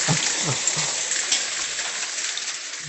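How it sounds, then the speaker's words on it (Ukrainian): Large hailstones falling in a suburb of Offenburg, Germany: a busy, crackling patter of hard stones striking surfaces, fairly close and steady, with a few louder hits early on. "А снігу нема, а град є."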